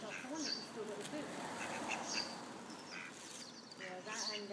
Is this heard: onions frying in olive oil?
no